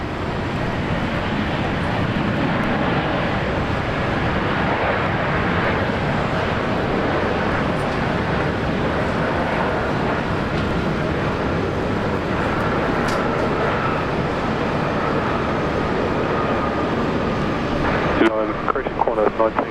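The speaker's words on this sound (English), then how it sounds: "A big boy landing now. Direct flight from Dubai. Welcome, Airbus A380." An Airbus A380 on a direct flight from Dubai landing at Brisbane Airport, heard as a steady broad roar of engine and rushing air lasting about twenty seconds, with no voices.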